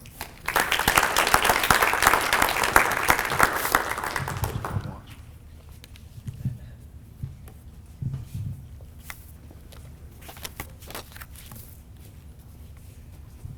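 An audience at the Miller Intermediate school Terrific Kids ceremony applauds a student award with steady, full clapping for about five seconds, then it dies away into a quiet room with scattered faint shuffles.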